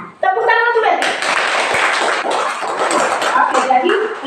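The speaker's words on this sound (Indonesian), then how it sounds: "Tepuk tangan untuk Berti." A classroom of students at a Catholic religious education lesson bursts into applause after a brief adult voice, clapping densely and loudly for several seconds before voices return.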